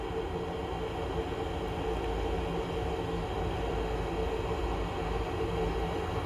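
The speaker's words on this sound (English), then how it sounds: "The noise you can hear at the moment, sadly, is a day boat down here which is cooling itself off." A day boat's engine runs steadily while cooling itself off on the Norfolk Broads, a constant low mechanical drone heard at moderate distance with no talk.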